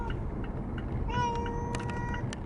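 A cat meows from the back of a moving car on the way to the groomer, a couple of drawn-out, plaintive cries over steady low road rumble and a few faint knocks.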